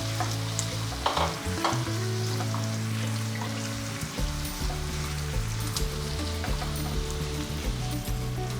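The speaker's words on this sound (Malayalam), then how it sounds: "ഇത് നമുക്ക് നല്ല ഗോൾഡൻ ബ്രൗൺ ആവുന്നിടം വരെ വറുത്തെടുക്കാം." Sliced onions sizzle in oil over a medium flame for a Mughlai chicken kurma, a dense, steady frying hiss with occasional stirring, close up and uninterrupted by speech.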